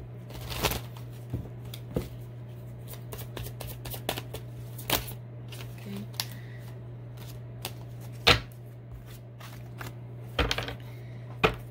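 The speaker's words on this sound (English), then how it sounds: "I'm gonna grab some additional cards" Tarot cards being shuffled by hand: soft, quick riffling and slapping bursts at irregular intervals, close and fairly quiet, with a couple of sharper snaps and a faint steady hum underneath, no talking.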